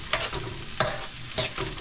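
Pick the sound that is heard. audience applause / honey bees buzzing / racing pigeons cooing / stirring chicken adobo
stirring chicken adobo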